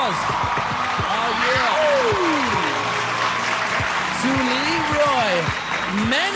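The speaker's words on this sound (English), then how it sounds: "I want y'all to give a big round of applause." An audience at the inaugural Music Token Forum claps for a speaker while excited voices call out loudly over the applause, close and lively throughout.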